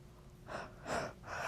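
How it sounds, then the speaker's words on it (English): A person yawns, a drawn-out breathy inhale and exhale in a few soft swells, close and fairly quiet with no speech. "I'm so sorry, I'm yawning"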